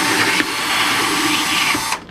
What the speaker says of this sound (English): I'm gonna take this 1/4-inch drill bit, I'm gonna mark off